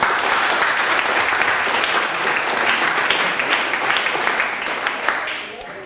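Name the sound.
audience applause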